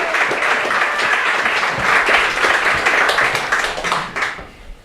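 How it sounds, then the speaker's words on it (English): An audience gives a speaker a big round of applause at an event, a dense, steady roar of many hands clapping close and loud for several seconds before fading out. "give her a big round of applause"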